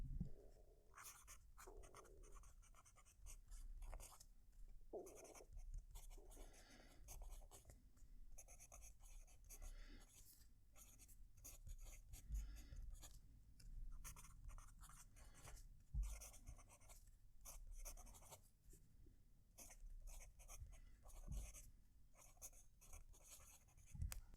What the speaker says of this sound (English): I'm going to move the mic down to the paper so you can hear the pen write